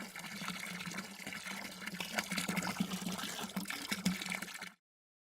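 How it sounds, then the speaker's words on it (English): Filtered water pours steadily from the outlet tube of a biosand filter into a clean container, a continuous close trickle and splash that stops abruptly. "You'll see the water start to flow out of the tube."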